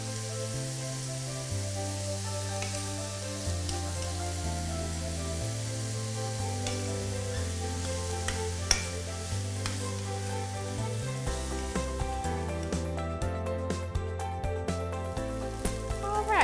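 Onions sizzle steadily in a pan while being stirred, a continuous frying hiss broken by occasional scraping taps, with music playing underneath and no talk.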